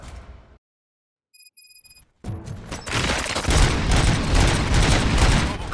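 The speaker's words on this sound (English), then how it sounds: "Gunshots? What's going on?" Gunfire in the video game RoboCop Rogue City: after a short silence broken by electronic beeps, a dense, sustained burst of shooting and rattling explosions starts up loudly and continues to the end.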